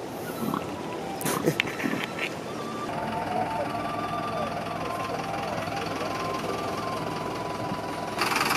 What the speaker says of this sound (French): Les bus, ils ouvrent leur moteur pour que le moteur capte plus d'oxygène